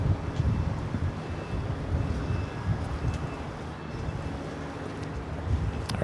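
Gusty wind at Los Angeles International Airport buffets the microphone as a continuous broadband rush with rising and falling gusts, fairly loud and without speech.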